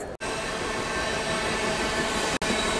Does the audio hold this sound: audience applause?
no